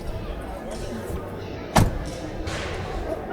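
A tubular tube door on a Jeep Wrangler at a trade-show booth is handled, giving one sharp metallic clunk midway and another knock at the end, heard over busy background chatter.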